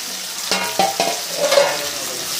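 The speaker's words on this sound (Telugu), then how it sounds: "టమాటా ముక్కలు వేసుకొని అవి కూడా కొంచెం వేపుకోవాలి." Tomato pieces frying in a pan for a fish roe dish, a loud close sizzle broken by a few quick stirring knocks and scrapes.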